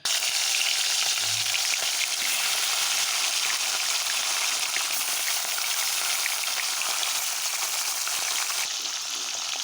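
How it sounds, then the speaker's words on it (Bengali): Fish frying in a shallow layer of hot oil with a chili added, giving a loud, steady, dense sizzle that continues unbroken from start to finish with no talking. "তেলটা গরম হয়ে গেছে একটা লঙ্কা দিয়েছি তেলের ভিতরে দিয়ে দেখো মাছটা ভাজবো"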